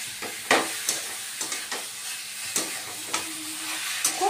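Taro and rohu fish head frying in a pan with coriander powder, a steady close sizzle broken by repeated scraping stir strokes.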